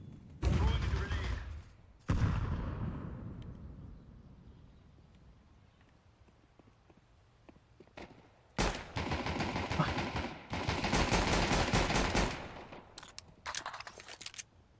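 Bursts of rapid gunfire in Counter-Strike 2, with a loud opening volley, a quieter pause with scattered faint shots, then long sustained automatic fire closing out the stretch.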